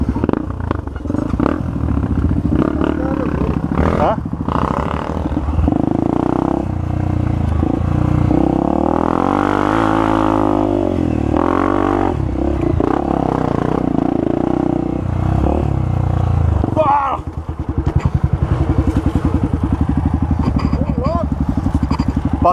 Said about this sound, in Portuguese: Lelê, acelera essa porra aí